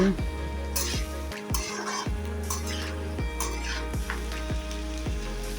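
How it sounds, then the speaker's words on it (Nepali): Garlic, onion and capsicum sizzle in a hot pan while a utensil scrapes and stirs in a steady rhythm, with clinks of metal against the pan. "लसुन प्याज क्याप्सिकमलाई चाहिँ मजाले भुट्दैछु।"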